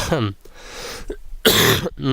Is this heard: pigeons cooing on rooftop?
no